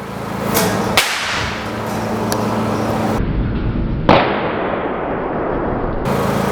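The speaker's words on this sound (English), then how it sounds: "That's what you'll hear in your backyard if you hear a fuse blow." An electrical fuse blowing on an overhead power line, heard as several loud sharp cracks and bangs with a harsh crackling rush between them, dense and close, with no talking.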